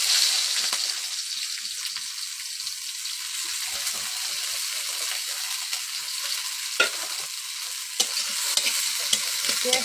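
Chopped onion and two green chilies sizzle in a hot pan with lightly fried dried chili, giving a loud, constant crackling fry with occasional stirring scrapes and taps, and no voice heard.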